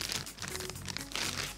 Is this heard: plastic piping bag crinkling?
yes